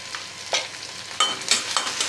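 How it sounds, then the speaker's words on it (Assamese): Malabar spinach chutney fries in a pan over a gas flame, with scattered scrapes and stirs of a spoon breaking over a soft sizzle, loud and close, with no talking. "এতিয়া এইখিনি ভালদৰে ভাজি ল'ম।"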